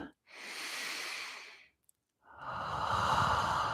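A deep, slow inhale hisses in close to the microphone, then after a short pause a long, full exhale rushes out, louder and breathier; no talking.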